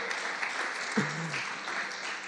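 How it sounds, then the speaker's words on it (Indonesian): A crowd at a church youth worship service claps in a steady, dense wash of applause, with a brief low hum or voice rising near the middle. "Tepuk tangan untuk Tuhan kita yang luar biasa, yuk."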